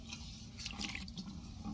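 Gobindobhog rice being washed in water, a soft, steady wet swishing with small drips and squishes, close and faint throughout, with no talking.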